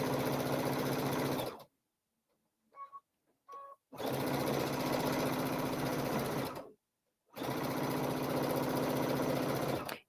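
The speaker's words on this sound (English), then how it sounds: "with right sides together, I'm going to just sew this." Sewing machine stitching felt fabric pieces placed right sides together, running loud and steady in three bursts separated by brief silent pauses with faint clicks between them.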